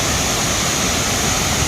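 Dokmoka Bhelughat waterfall in Karbi Anglong, Assam, roars as a loud, steady broadband rush of falling water, continuous and unbroken with no voices over it.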